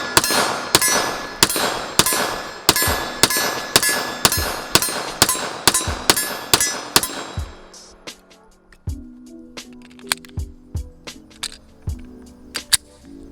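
Handgun shots at a 15-yard target ring out in a quick evenly spaced string of about fifteen sharp cracks, followed by a pause and a few scattered shots with metallic clinks and echoes.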